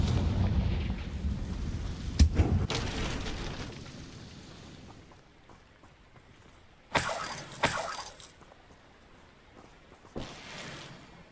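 Deep booming blasts of a Confringo fire curse in Hogwarts Legacy, a heavy rumbling explosion at the start, then two sharper crackling bursts later, with quieter rumble between them.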